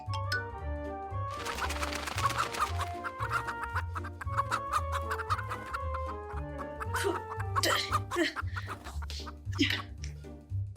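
Chickens clucking in a farm setting, with steady rhythmic clucks and calls close by over a backdrop of busy background sound, no talking.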